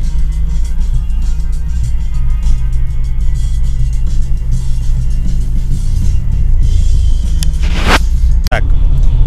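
A UAZ Patriot with an automatic gearbox pulls away off-road into deep snow, its engine rumbling loud and steady up close, with a sharp knock near the end.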